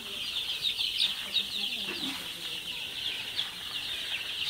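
Sonali super hybrid chicks peep in a steady high chorus inside a poultry shed, a continuous bright chirping texture with faint movement noises underneath.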